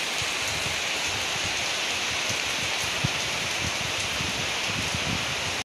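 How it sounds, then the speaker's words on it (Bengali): Heavy rain falls on trees in a dense, even hiss that stays constant throughout, with one brief soft knock partway through and no voices. "জোরে কিন্তু বৃষ্টি হচ্ছে, গাছগুলো দেখেই বুঝতে পারছো প্রচুর বৃষ্টি হচ্ছে।"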